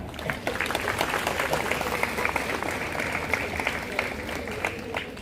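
A crowd claps steadily at a Christian priest's ordination ceremony, a dense patter of many hands sustained at an even level throughout.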